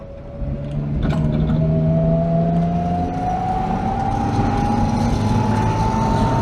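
An Austin A35 drives along a road, its engine droning loud and continuous as the pitch climbs steadily under acceleration, with no one talking.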